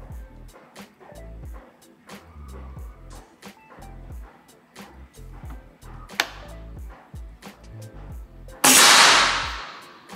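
A single PCP air rifle shot fired at a target, a sharp, loud burst near the end following a series of soft clicks and handling taps.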